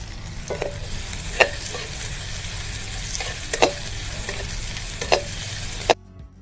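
Finely chopped onion frying in hot oil in a pan over a wood-fired stove, giving a steady sizzle with several sharp clicks of a spoon stirring against the pan. No one speaks.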